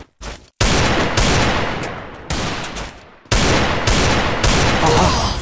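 Gunfire in a mobile shooting game: loud bursts of rapid automatic shots in several separate volleys, each abruptly cut off, with short gaps of silence between them.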